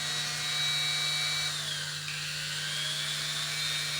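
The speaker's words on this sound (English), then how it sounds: "I like to turn on the drill and make sure that the bit is rotating straight." An electric drill whirs continuously at a steady high pitch, its tone dipping slightly midway, with a constant low hum underneath.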